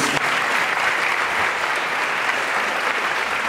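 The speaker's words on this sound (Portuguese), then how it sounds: "Aplauda ao Senhor Jesus." A church congregation at a discipleship service breaks into steady, dense applause, loud and continuous throughout with little talk over it.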